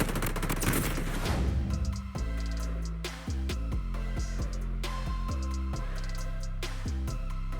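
HK-416 rifle fire in the BloodStrike video game, a dense burst at first and then a run of sharp, evenly spaced shots, loud and close, with musical tones underneath and no talk.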